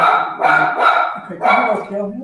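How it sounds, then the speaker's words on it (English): A dog barks nearby in a few short, sharp yelps spaced about half a second apart, loud and close, while a person talks over them. "Yeah, that's my dog."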